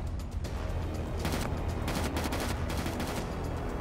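Rapid gunfire in the video game Killing Floor 2 rattles nonstop in dense, loud bursts, a continuous fusillade of sharp shots close to the listener.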